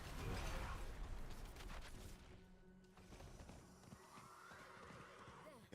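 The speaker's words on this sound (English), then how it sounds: "Get on the horse." A horse neighs and whinnies in Diablo 4, a loud whinny near the start followed by hoof clip-clops and mechanical game sounds, with in-game voices speaking over parts of it.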